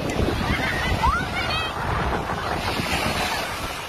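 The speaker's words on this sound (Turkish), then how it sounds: "Limana yanaşan yolcu gemisi dalgaya yol açtı." Sea surge pushed ashore by a passing passenger ship at a crowded Mykonos beach. Steady wave wash and heavy wind buffeting fill the whole stretch, with a brief high whinny-like cry near the middle.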